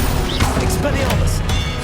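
A spell-casting effect from the Hogwarts Legacy video game, heard as a run of sharp magical bursts and impact cracks over a dense, constant wash of game sound.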